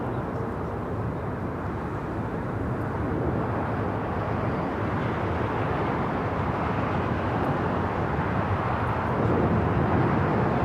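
A steady, distant roar of jet aircraft at Los Angeles LAX airport rumbles evenly with no talk, the broadband noise swelling slightly toward the end.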